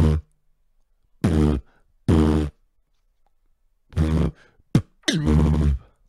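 A voice imitates beatbox sounds: deep buzzing tongue-bass hits separated by pauses, with a sharp clicking K snare near the end.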